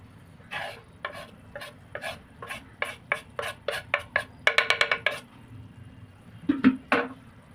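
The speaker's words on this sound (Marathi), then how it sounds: "आता यामध्ये मसाल्यामध्ये आता पनीर मिक्स करून घेऊया" Paneer being mixed into spice masala in a pan for paneer paratha, a spoon scraping and clicking in a steady rapid series of short, close strokes over a low background hum.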